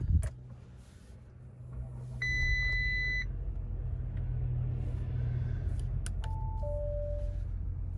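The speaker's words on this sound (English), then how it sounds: "I'll start the car up." An Audi Q7 S-Line starts up from inside the cabin, its engine settling into a steady low idle rumble while electronic chimes beep in short bursts.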